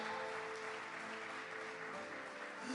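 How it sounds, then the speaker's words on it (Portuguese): A church congregation claps together in a steady, moderately distant patter of applause lasting a few seconds, with no talk over it. "Quem recebe, dá um aplauso bem forte ao Senhor."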